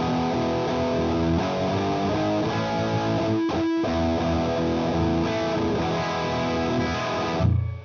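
Electric guitar through a Walrus Audio Eras distortion pedal into a Fender amp, a gritty, saturated tone playing sustained chords continuously, with a brief break partway through, ending in a low rumble, no voices.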